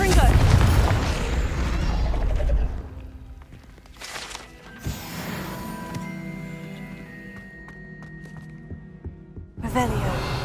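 Confringo spell explosions in Hogwarts Legacy, a booming burst at the start, a sharp blast partway through with ringing tonal tails, and another burst near the end, with speech over the game sounds.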